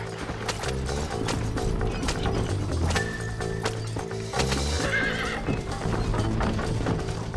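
Several horses neigh loudly over a steady clip-clop of hooves in the video game Red Dead Redemption, with occasional clanks and thuds, all in a busy, continuous scene.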